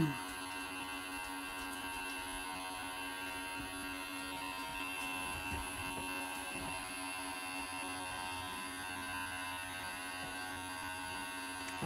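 A Tribest Slowstar juicer's vacuum pump draws air out of its jar with a steady, close electric drone that holds level and unbroken from start to finish.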